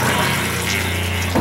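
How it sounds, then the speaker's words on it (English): An RV toilet in a 2023 Cougar 2700BH travel trailer flushes into the black tank, giving a steady close rushing of water over a low hum for about a second and a half, then a brief clunk at the end. "push the pedal all the way to the floor and it sends it to the black tank"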